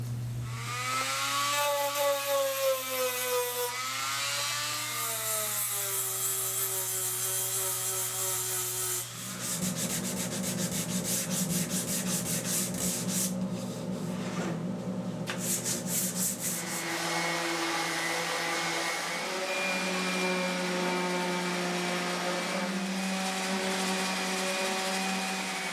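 A Dremel-clone rotary tool deburrs a wooden barbecue tray with a continuous high whine that rises and falls in pitch as it bites into the wood, loud and close throughout with no talking.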